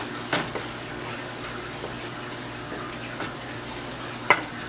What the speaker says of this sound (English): just mix this all up together